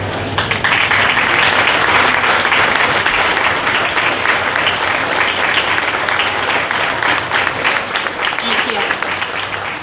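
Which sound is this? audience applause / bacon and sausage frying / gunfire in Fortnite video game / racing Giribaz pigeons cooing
audience applause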